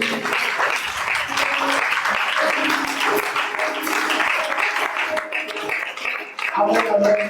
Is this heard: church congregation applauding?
yes